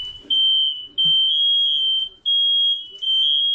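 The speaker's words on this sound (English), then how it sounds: "Fire alarms are going off." A smoke alarm shrieks in a smoky indoor room, a loud piercing steady tone sounding in long blasts separated by brief gaps, with faint voices and movement underneath.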